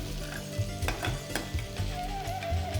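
Roasted grated raw mango goes into hot ghee in a pan, sizzling steadily and close by, with soft scraping stir strokes and occasional utensil clicks.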